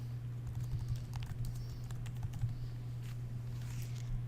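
Rapid keystrokes on a computer keyboard as an image name is typed, a steady run of close clicks over a constant low electrical hum, with no talking.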